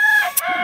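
Chickens and geese kept in a garden; one loud, close, strained fowl call with a ringing, crowing tone lasts under a second before breaking off.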